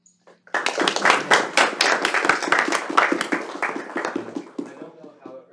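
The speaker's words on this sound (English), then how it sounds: "I want everybody to give a big round of applause to Patrick, Nathan, Tate, and David" Small audience at a local STEM event clapping for an engineer panel, a close burst of individual hand claps that builds quickly then thins out and fades.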